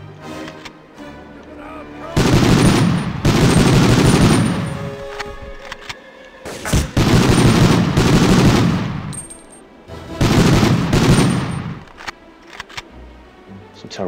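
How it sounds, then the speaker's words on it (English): Gunfire in the PS1 video game Medal of Honor (1999), three long bursts of rapid shots and explosions separated by short lulls, loud and close, with a voice talking in the quieter gaps. "Some terrible shooting there."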